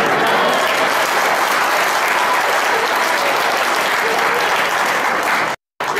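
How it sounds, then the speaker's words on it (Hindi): Loud, sustained applause from a large audience at a motivational lecture, dense clapping filling the room without pause, then cutting off abruptly near the end. "वो जो आप तालियां बजा रहे हैं"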